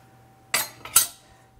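Chive flowers go into a small glass canning jar with two or three quick, bright clinks of glass and metal, close and clear against a quiet kitchen with a faint hum.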